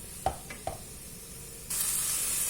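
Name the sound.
chicken curry sizzling as it browns in the pan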